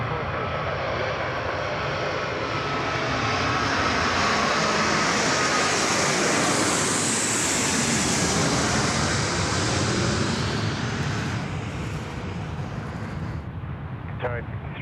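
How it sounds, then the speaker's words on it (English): A Qatar Airways Airbus A380 on runway 34 left at Sydney Airport at night, its engines building to a loud, sustained roar that peaks midway and then fades, with talk heard over it. "The Qatari, the big Q, the A380, 34 left, right in front of us"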